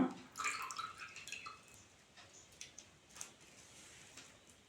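Quiet trickling and dripping water squeezed from a soaked sanitary pad, strongest at the start and then tapering into scattered faint drips.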